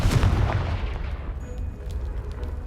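A Confringo blasting spell explodes in Hogwarts Legacy, a loud, rumbling boom that opens the clip and decays into a dense, noisy tail.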